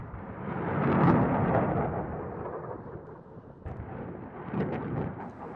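A HIMARS High Mobility Artillery Rocket System, a light, highly mobile multiple rocket launcher, fires in a field artillery demonstration. A loud, deep roaring rumble swells and slowly fades, and a second rushing burst follows near the end.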